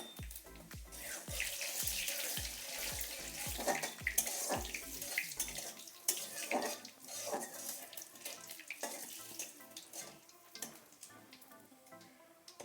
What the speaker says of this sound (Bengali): তেলটা গরম হয়ে গেছে, ফোড়নে দিচ্ছি 3টে এলাচ ফাটিয়ে নিয়েছি